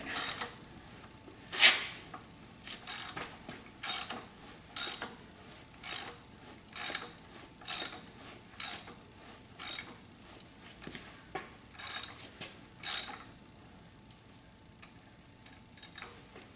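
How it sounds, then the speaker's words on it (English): A pipe threader cutting threads with a die while making new targets, heard as a steady series of rhythmic ratcheting, clicking mechanical strokes, moderately close with no talk. "Get it on there in the threader."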